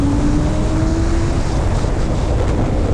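Used Suzuki GSX-R 750 motorcycle pulling away under partial throttle, its engine note climbing steadily beneath loud, constant wind rush throughout.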